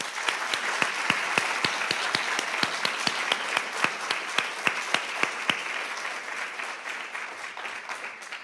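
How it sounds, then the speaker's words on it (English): Audience applause for honorees at an Army Women's Foundation scholarship awards and Hall of Fame induction ceremony, sustained clapping with a few sharp, distinct claps standing out near the microphone before it gradually thins. "let's give them one more round of applause"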